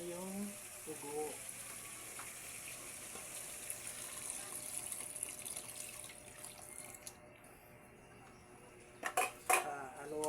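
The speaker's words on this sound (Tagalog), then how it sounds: "Halo-haloin para hindi mamuo yung dugo" Dinuguan, a pork blood stew, stirred in a metal pot, with scraping and clinking of a utensil against the pot over a soft bubbling, wet background, growing louder with a few sharp knocks near the end.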